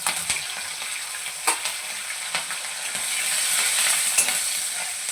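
Curry leaves, slit green chillies and plenty of crushed garlic hit hot oil already crackling with mustard and cumin, a loud continuous sizzle and fry punctuated by sharp pops and spatters, close up and with no talking.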